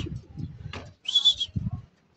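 Light checkered racing pigeons arrive at a loft after a 130 km race, giving a short coo and a brief chirp close by, while soft talking is heard around them.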